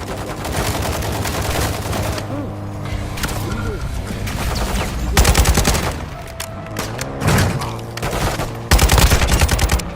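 Gunfire in the video game Call of Duty DMZ: sustained bursts of loud automatic rifle fire with short pauses, heavy rapid volleys near the middle and end, and a voice briefly calling out.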